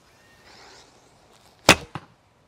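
Mini Xerxes bow drawn at 39 lbs and loosed: after faint background shuffling, a single sharp snap of the arrow release rings out, followed by a brief, softer thump, close and clear without talk.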